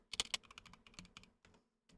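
Fingers type on a computer keyboard while data is entered into a low-code app, giving a close, quiet patter of quick clicking keystrokes in an uneven burst that pauses briefly, then finishes with a couple of final taps.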